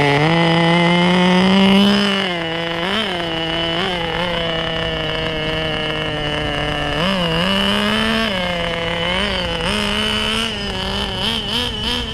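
HPI Nitro RS4 nitro RC car engine driving, a loud buzzing two-stroke whine that swells and dips with repeated throttle blips, steady and close throughout with no talk.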